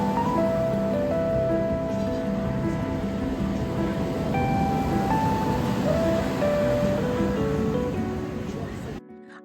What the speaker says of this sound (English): listened to the waves roll up onto the beach